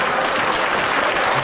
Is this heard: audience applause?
yes